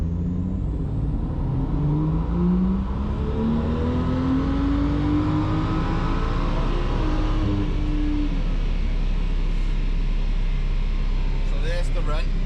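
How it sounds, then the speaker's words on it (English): A BMW M2 engine with a tuned ECU revs hard on a dyno and climbs steadily in pitch under full throttle, a loud continuous roar that drops away near the end. "it's just a case of keeping the throttle down all the way until they want to change gear"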